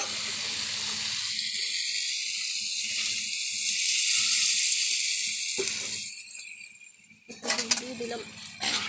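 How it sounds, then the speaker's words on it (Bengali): Water poured into a hot cooking pan sets off a loud, bright sizzle that swells, holds and then eases, ending with a few clinks and bursts of crackling. "আমি জল দিয়ে দিচ্ছি।"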